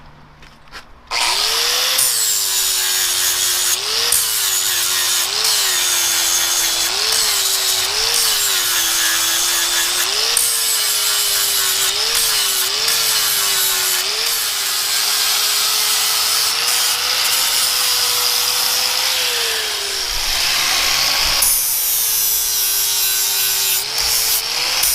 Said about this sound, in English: we'll come back and dress these welds off with the flap disc